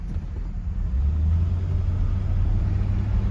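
A Ford 302 V8 in a 1968 Canadian Ford idles smoothly with a steady, close, low rumble and no speech.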